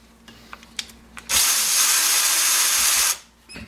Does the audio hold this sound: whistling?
no